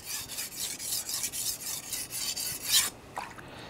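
A knife edge is sharpened on a whetstone, worn into a shallow groove, producing steady back-and-forth rasping strokes at close range, about a dozen quick passes followed by a pause with no talking.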